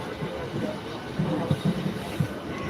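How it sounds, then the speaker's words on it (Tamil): A train pulls into Tambaram railway station with faint, low rumbling and soft rhythmic wheel thumps, heard from inside the carriage under distant background murmur. "தாம்பரம் ஸ்டேஷன் உள்ளே வந்துகிட்ருக்கோம்."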